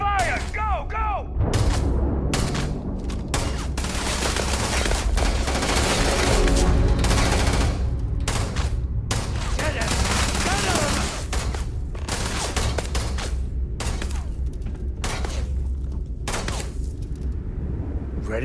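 Sustained automatic gunfire from a sci-fi firefight in the game Starfield, dense rattling bursts with heavy booms, loud and close, with shouted voices mixed in.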